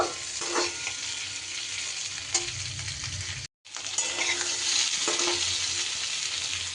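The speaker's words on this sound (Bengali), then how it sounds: "আমি এবার এটা তেলের মধ্যে নাড়াচাড়া করে নেব" Potatoes stirred in hot oil for a spicy fried snack, a steady sizzle punctuated by a few clinking scrapes of the utensil against the pan, briefly cut off once by a sudden gap.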